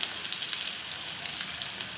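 Dried red chillies, three of them, frying in hot tempering oil for a tomato coriander chutney, giving a steady soft crackling sizzle throughout with faint scattered pops.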